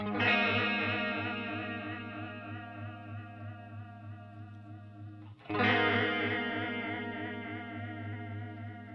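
Guitar played through a Walrus Audio Slotva modulation pedal with its LFO set asymmetrical, two sustained chords ringing with wavering, warbling pitch and a slight gritty edge, the second struck midway and decaying slowly.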